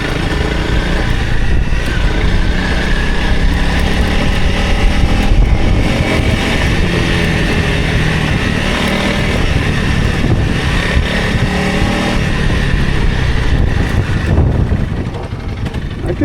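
An old 300 rally dirt bike ridden hard through sand roars continuously at close range, its engine note steady and loud throughout before easing slightly near the end.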